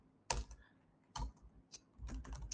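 Quiet, scattered keystrokes on a computer keyboard as code is typed, coming in small bursts with pauses between them, with no talking.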